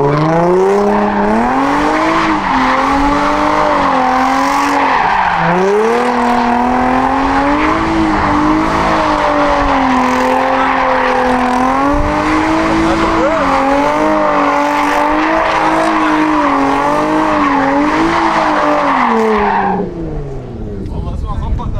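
A drifting car holds a long, loud tire squeal with a wavering engine roar that rises and falls as it slides, close and continuous for about twenty seconds, then fades out abruptly.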